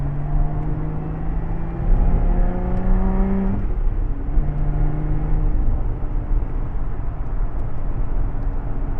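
A Lotus Exige Sport 410 on a cool-down lap at Anglesey circuit, its engine note droning steadily and close, with pitch sweeps as it rises and falls through the revs, loud and continuous without talk.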